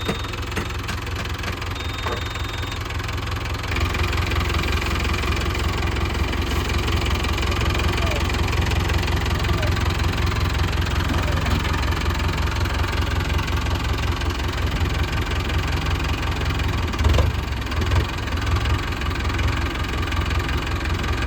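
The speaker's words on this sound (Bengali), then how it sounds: "এই 4 সিলিন্ডার ইঞ্জিন আছে গাড়িটা।" Mahindra Arjun Novo 605 DI 4WD tractor with a 50 hp four-cylinder diesel engine, working a rotavator in deep mud, runs with a loud, steady, close low rumble and knocking throughout.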